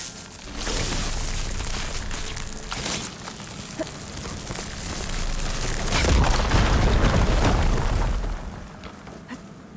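An igniter blowing apart a fire gleam rock in the video game Horizon Forbidden West: booming fiery blasts and a long rumbling roar that swells to a heavy crumbling peak before dying away, no voices.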